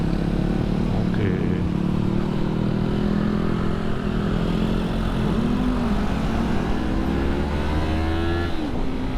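Yamaha MT-25 2025 motorcycle on a test ride, its engine droning steadily throughout with rising and falling pitch as it pulls, loud and continuous, with wind rush and no talking.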